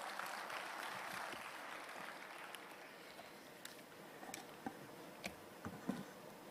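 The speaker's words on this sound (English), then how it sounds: "Let's have a huge round of applause for Dr." Audience applause at the inaugural session of a national meet, a broad wash of clapping that fades into scattered individual claps and a few sharp taps.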